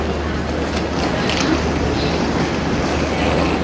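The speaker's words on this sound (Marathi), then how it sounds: "ट्रेनजवळ पोहोचलेलो आहे मुंबई सेंट्रलला." Steady rumbling noise of a train standing at the Mumbai Central railway station platform, a dense continuous roar with low hum and faint clanks, close and fairly loud.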